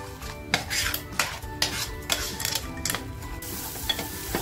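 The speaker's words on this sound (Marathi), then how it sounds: "मसाला आहे ना छान असा मी फ्राय करून घेते याच्यामध्ये" Mutton masala fries and is stirred in a pan. A spatula clanks and scrapes sharply against the metal every half second or so over a low sizzle, close and clear, with no talking.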